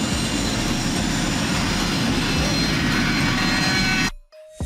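A private jet aircraft roars past with a loud, steady broadband engine whine and rumble, holding close for about four seconds before cutting off abruptly into near silence.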